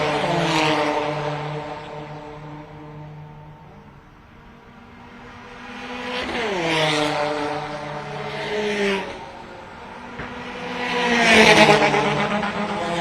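Formula 4 race cars on practice laps at a street circuit in Chennai, engines rising and falling in pitch as they approach and pass, several passes in succession with loud peaks and quieter gaps.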